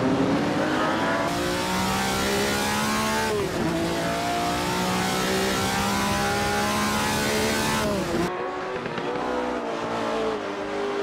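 A Corvette race car at Goodwood in the Assetto Corsa driving game roars through repeated gear changes, engine pitch climbing and dropping with each shift, loud and close, ending in an abrupt drop as the car hits the wall.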